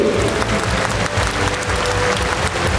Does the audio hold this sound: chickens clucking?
no